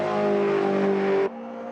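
A modded race car in the Automobilista 2 racing game: a loud, steady high-revving engine whine with strong tonal harmonics, dropping abruptly to a lower, quieter drone as the car passes or shifts.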